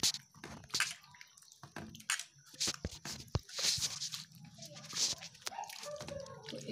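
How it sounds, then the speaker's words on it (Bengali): Banana stem, potatoes and pumpkin leaves are washed by hand in water. The sound is close, with splashing, dripping and crisp rustling of leaves in irregular bursts. "দেখুন সুন্দর করে আমার মা ধুয়ে নিচ্ছে।"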